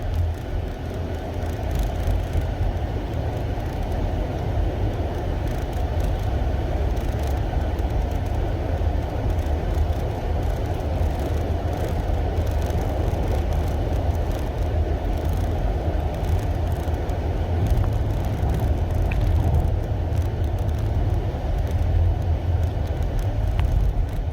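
A Nissan LEAF electric car pulls away from a stop, heard from inside as a steady low road rumble and cabin hum that holds level the whole way, with no talking.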